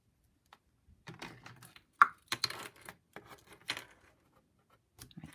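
Scissors cutting card for a Christmas birthday card, a short series of close, dry snips and paper rustles with brief pauses between them, quiet overall.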